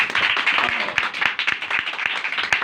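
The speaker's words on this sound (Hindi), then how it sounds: "एक बार जोरदार तालियां" A church congregation claps loudly and continuously at a Hindi-language worship service, a dense, close burst of many hands with sharp individual claps standing out.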